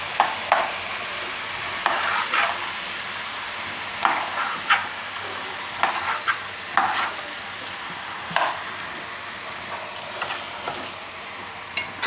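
A spoon stirs malai into hot ghee for a Gujarati mixed halwa, giving a soft sizzle with sharp scraping clicks at irregular intervals against the pan, close and fairly quiet.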